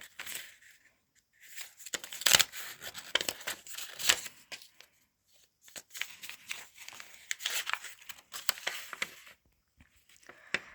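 Paper surprise packets being torn open and unwrapped, with bursts of crinkling and ripping paper in irregular clusters, close and moderately loud, separated by brief quiet pauses.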